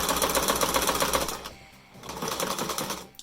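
A sewing machine stitching a fabric mask, running in a fast, even mechanical rattle up close, pausing briefly in the middle before starting up again.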